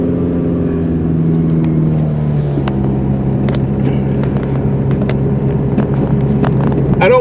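A car drives past the municipal airport in Monroe, Wisconsin. A steady, humming engine drone is heard from inside the vehicle, with scattered light clicks and rattles over the top.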